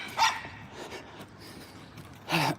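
Small dogs barking in a couple of sharp bursts, one near the start and one near the end, with quieter rustling between.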